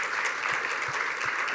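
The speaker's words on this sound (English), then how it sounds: "maybe one last round of applause for all of our" An audience applauds the companies that pitched at a digital pitch competition, a steady, close wash of clapping that runs for the full moment.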